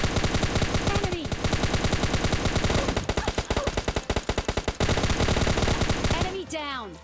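Rapid automatic gunfire in PUBG Mobile Lite, loud sustained bursts of shots with brief gaps, ending in a few trailing game effects.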